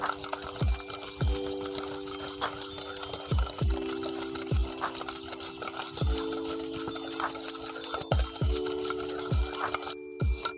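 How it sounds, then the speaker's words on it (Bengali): Powdered sugar is whisked into yogurt and oil in a bowl for an eggless cupcake batter, making a steady series of rhythmic stirring strokes and soft taps over a constant low background hum. "এই দই আর তেলের সাথে গুঁড়ো করা চিনিটাকে ভালোভাবে ফেটিয়ে নেব।"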